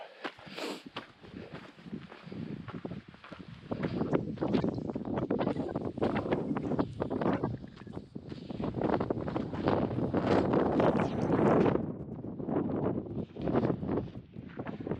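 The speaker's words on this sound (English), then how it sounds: "very windy." Strong wind on the exposed slopes of Mount Tongariro buffets the microphone in heavy, rumbling gusts, loud and continuous with surging peaks, and no voices heard.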